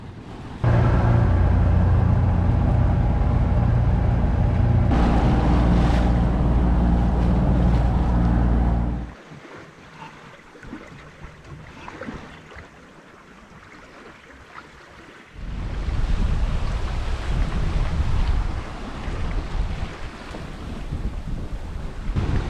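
Strong wind roars across the microphone on a sailing boat at sea in the Atlantic, loud and buffeting, dropping briefly to quieter water and hull sounds before gusting hard again.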